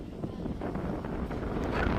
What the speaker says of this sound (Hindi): कितनी बढ़िया हवा चल रही है।